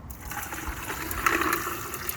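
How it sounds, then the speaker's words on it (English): Water running into a one-gallon insulated Tronco water bottle, a steady soft trickling pour that grows slightly brighter toward the end, heard alone with no talking. "And you can just fill this up with so much water."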